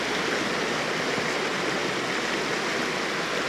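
A northern Finnish river, home to grayling and trout, flows in a constant full rush of water, an even, close and fairly loud wash with no breaks and no voices over it.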